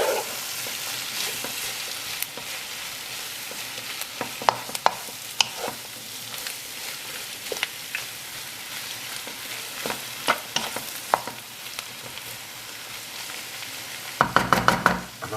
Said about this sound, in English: So there's 6 tomatoes that I've chopped, and they're going in. Give that a mix.